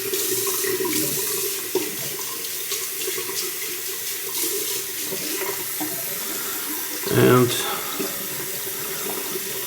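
Cold Austrian mountain water runs steadily from a tap into a bathroom sink, a close continuous hiss with a brief louder splash midway, while a voice briefly comes through over it.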